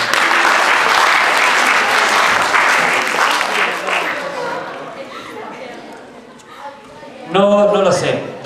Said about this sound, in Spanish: Un aplauso para esa pregunta, por favor.